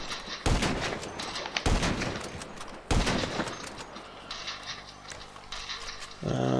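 Heavy sniper rifle in GTA V firing three loud, sharp shots about a second apart, each followed by a long echoing tail. Quieter mechanical noise follows, then a low engine-like rumble at the end.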